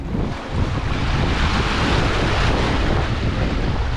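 Sea waves wash at the shore under strong wind, a steady loud roar of surf with heavy wind buffeting on the microphone and no voices.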